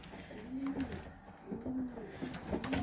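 A blue-bar Van Reet racing pigeon cockbird coos in several short, close, soft phrases, with some faint shuffling around it.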